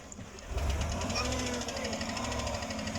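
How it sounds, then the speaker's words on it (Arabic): A car engine with a cylinder 6 misfire gives a rapid, steady ticking and tapping over a loud idle rumble that rises as the accelerator is pressed, with the clatter staying close. "الان لما ادعس بنزين صوت طقطقه"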